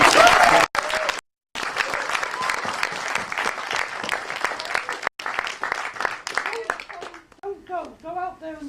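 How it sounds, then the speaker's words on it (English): Audience applauding at the closing event of tenantspin, dense sustained clapping from a crowd with brief cutouts, then tapering off as a voice begins speaking near the end. "A big round of applause for everything that should be applauded"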